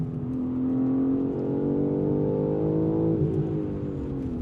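A BMW M3 CS engine drones and revs from inside the car while driving hard, a loud steady harmonic growl that climbs in pitch, then dips with a gear change near the end.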